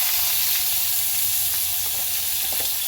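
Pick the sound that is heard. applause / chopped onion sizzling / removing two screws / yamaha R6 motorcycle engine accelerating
chopped onion sizzling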